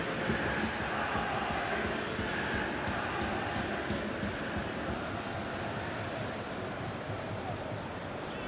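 Steady, dense roar of a packed stadium crowd at an Italian football match in the video game eFootball PES 2021, a continuous wash of massed voices and noise running unbroken throughout.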